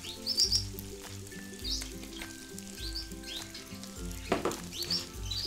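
Browned meats sizzling in a discada over a flame as vegetables are added for a Norteña-style dish, a steady close crackle with occasional stirring scrapes, a low background tone and faint bird chirps, no talking.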